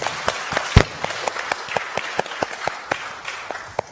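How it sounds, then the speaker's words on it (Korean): A small church audience claps in a sparse, uneven round of applause, with distinct individual claps, one loud clap near the start, and the clapping tapering off quickly. "우리 민경이에게 다시 한번 박수 부탁드리겠습니다"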